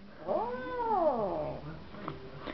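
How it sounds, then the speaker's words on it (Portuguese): A cat gives one loud, drawn-out meow close by, its pitch rising and then sliding down, while it is being held by a person. "Larga o gato!"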